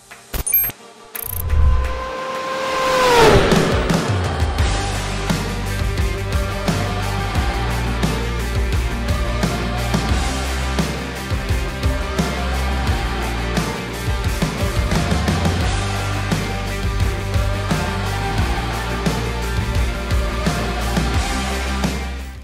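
2024 Audi RS 6 Avant V8 engine: an early sharp rev that swoops down in pitch, followed by a long, steady low drone with a scatter of clicks and ticks, loud and close, no talking.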